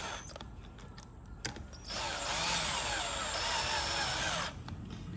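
A power drill or driver spins cylinder head bolts down loosely on a Chevrolet Cruze during head gasket replacement, a steady close whirring burst of a few seconds after quieter mechanical handling noises.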